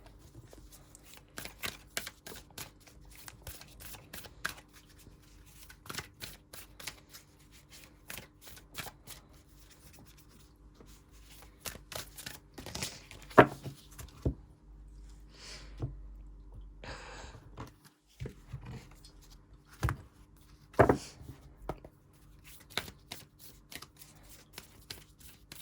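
Oracle cards being shuffled by hand, a long run of quick, crisp riffling clicks with a few louder flurries and brief pauses, close and steady, with no talk over it.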